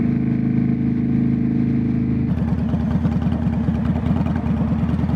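A motorcycle engine idles with a low steady hum before jumping into a revving, pulsing run that continues to the end, heard up close outdoors at a festival.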